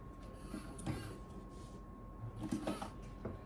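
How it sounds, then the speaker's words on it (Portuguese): A sewing machine runs a seam along a backpack strap on a drawstring bag, with half-centimetre seam allowance, giving a low, steady mechanical whir and faint rhythmic clatter that swells in short bursts. "E vamos passar uma costura aqui com margem de meio centímetro."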